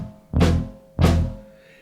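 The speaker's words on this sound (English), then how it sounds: "It makes a fizzy crack." Snare drum in a children's rhythm song, two sharp, bright cracking hits with a fizzy rattle tail, close and loud, evenly spaced.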